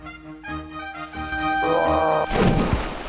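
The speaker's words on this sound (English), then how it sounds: "The goat lowers his head and runs straight for the troll, butting him right off the bridge and into the river below." In the VGA remake of King's Quest: Quest for the Crown, a goat butts a troll off a bridge into the river below. Rising synthesized musical tones climb toward a loud crash and a heavy thud at the end.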